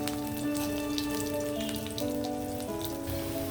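Onion and garlic frying in hot oil, a close, steady sizzle and crackle running unbroken under sustained background tones, with no one talking.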